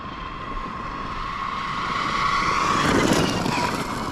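A Losi Super Baja Rey 2.0 RC off-road truck's electric motor screams at high throttle out in the desert, a steady loud whine that climbs in pitch and volume toward the end, with no talking.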